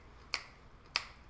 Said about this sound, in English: Do you snap your fingers?